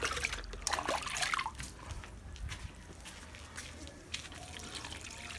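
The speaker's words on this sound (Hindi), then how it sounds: "ये इस साइड पे मोतियों को पानी दे दिया।" Water splashing and trickling onto garden plants and soil as they are watered by hand outdoors, a soft steady flow with a few brief drips, fairly faint and close.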